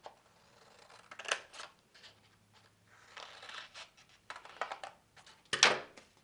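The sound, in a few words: scissors cutting paper leaves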